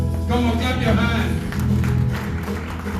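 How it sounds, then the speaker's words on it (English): Congregation at a Sunday church service clapping together, a dense steady wash of many hands with a voice speaking over the clapping. "Come on, clap your hands."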